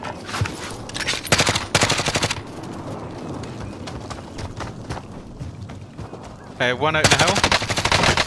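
Rapid automatic gunfire in a Warzone battle royale match, several loud close bursts of rattling shots separated by quieter stretches, with a player talking between the volleys.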